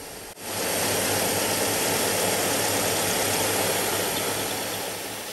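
Milling machine cutting with a 3/4 inch high-speed steel end mill, a loud steady whirring drone starting after a brief click, with the camera mounted on the mill table, running evenly for several seconds before tailing off.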